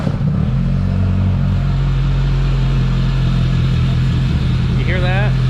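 A car engine with a misfire idles steadily, a low continuous rumble held close and loud throughout, with a brief rising whine near the end.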